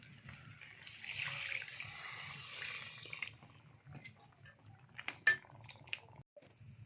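Water is poured into a pan of crab and spinach ghonto, a steady rushing splash for about three seconds, followed by scattered clinks and scrapes of utensils against the pan.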